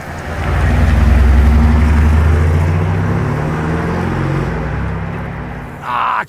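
A bold orange Lamborghini Urus SE runs its engine up close, a loud, deep, sustained rumble that swells early and then settles into a steady growl before a brief bump near the end.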